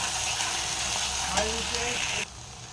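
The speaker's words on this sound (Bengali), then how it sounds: "এবারে আমি পোস্তটা দিয়ে একটু লো ফ্লেমে ভেজে নেবো।" Poppy seeds frying on a low flame give a steady, soft sizzle. Faint stirring or utensil sounds sit beneath it. The sizzle stops near the end and leaves quieter background noise.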